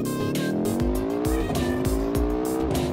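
A car in BeamNG.drive revs hard through rising gear pulls with tire squeal, then sharp impact thuds as it crashes, loud and close throughout.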